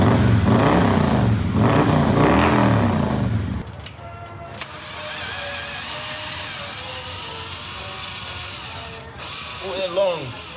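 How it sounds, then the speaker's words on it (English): An engine idles roughly through a heavily baffled exhaust, a steady lumpy drone with tonal hum that follows a few seconds of someone talking, with a brief voice again near the end. "But I love this idle. It's inefficient as junk, but it sounds great."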